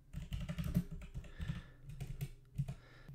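Python code being typed on a computer keyboard: a quick, uneven stream of soft key presses with a few louder taps, close by and without any talking.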